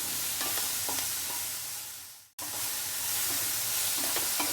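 Sauce for Tamil-style chilli egg sautéing in a hot pan, a steady broadband sizzle with stirring scrapes that cuts out briefly midway, then resumes just as loud and close.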